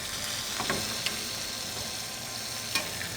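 A steak sears in butter in a vintage cast iron pan, giving a continuous loud sizzle and crackle with a few sharp pops and spatters.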